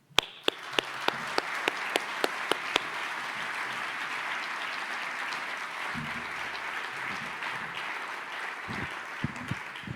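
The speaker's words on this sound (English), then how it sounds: "So I'm going to say you all deserve a round of applause" Audience at an annual presidential address breaking into applause, a dense, steady wash of many hands clapping that starts with a few sharp claps and continues evenly for several seconds before thinning out.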